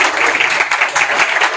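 A church congregation claps loudly and steadily in a dense, continuous burst of applause during a Urdu-language service, with no speech on top.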